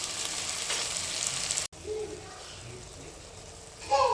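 Onions and tomatoes with green chilli, ginger and garlic sizzle and fry steadily in a pan, a soft continuous hiss with a brief break and a few clinks of stirring near the end.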